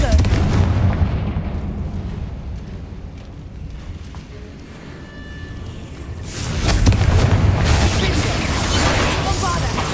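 Repeated fiery Confringo spell blasts in the video game Hogwarts Legacy, heavy booming bursts that fade briefly mid-clip and then return loud and dense, with a voice speaking over them.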